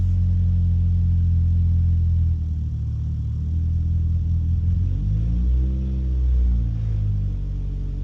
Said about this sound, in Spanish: Tengo que acelerar un poco.